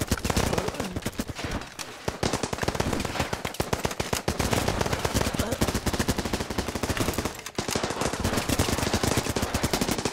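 Sustained machine gun fire in the video game Running With Rifles, a loud, dense rattle of rapid bursts running almost continuously with brief gaps, layered with other gunshots in a battle around an old fort.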